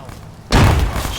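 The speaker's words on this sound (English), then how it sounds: "I'm gonna toss a frag into it." Frag grenade exploding in a military shooter game, a single sudden loud blast that cuts in and holds a broad roaring rumble, close and heavy.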